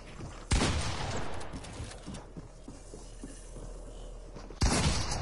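Gunfire in the video game Fortnite: two loud, sharp bursts, one near the start and one near the end, with quieter rattling and scattered action sounds between them.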